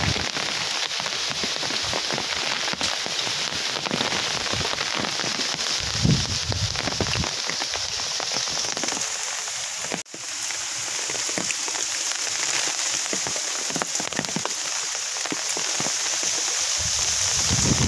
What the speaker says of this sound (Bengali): এখন অলরেডি বৃষ্টি হচ্ছে এবং ঝড়ও হচ্ছে